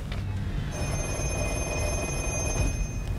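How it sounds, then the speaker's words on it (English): A black 1970s-style telephone on a film set rings with a steady electric bell trill, loud and close, sustained through most of the clip with no talking. "when we pick up this phone on the outside of the set, the black phone inside will ring"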